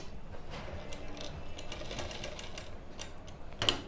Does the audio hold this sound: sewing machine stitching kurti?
yes